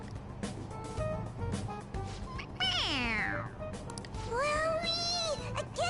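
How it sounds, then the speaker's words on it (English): A stuffed toy cat from Persona 5 Royal gives several synthetic meows when its head is pressed, one long sweeping meow followed by shorter rising ones, over game background music and low noise. "It meows when you press on its head."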